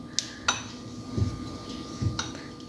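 Cooled glass jars of homemade tomato sauce are flipped upside down on a kitchen surface, giving a few sharp glassy clinks and knocks against a low background hum.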